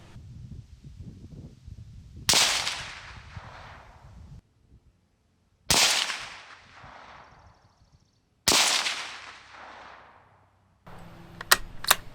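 Three sharp, loud rifle shots from a Ruger Precision Rimfire in .22 Magnum fired at a target, each with a ringing decay, spaced a few seconds apart, followed by a few quick clicks.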